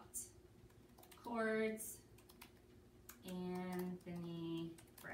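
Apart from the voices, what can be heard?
typing a search on a computer keyboard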